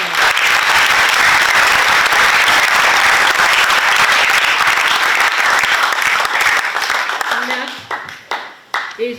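Dense, loud applause from an audience at a Pohnpei High School Christmas tree competition ceremony. It roars steadily for most of the stretch, then thins into scattered individual claps at the end.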